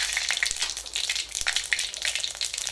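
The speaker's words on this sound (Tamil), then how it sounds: "நல்லா ஆயில் காஞ்சதுக்கப்புறம் கடுகு போடணும். கடுகு போட்டாச்சு." Mustard seeds and dried red chilies sizzle and crackle in hot oil, close and fairly loud, with a dense hiss and frequent tiny pops from the seeds.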